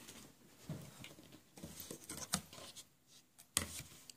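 Quilt fabric for a half square triangle is cut in half, giving quiet irregular rubbing, snipping and soft taps up close, with a few sharper clicks.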